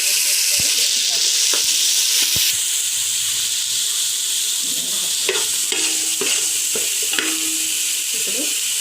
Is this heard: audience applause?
no